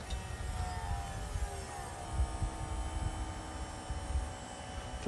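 An electric fuel pump runs on a 2017 John Deere 590i, a faint, steady low hum with a soft throbbing pulse and no other activity around it.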